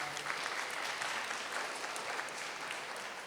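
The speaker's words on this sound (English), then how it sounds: "give yourself a huge round of applause for being so lucky" Audience applause at a CSR leadership summit and awards session in Bengaluru, a steady, distant wash of many hands clapping, fairly faint throughout with no speech over it.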